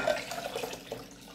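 Water poured from a tap-like stream into a ginger shot mixture of juice, a steady faint splashing trickle lasting about a second with no talk.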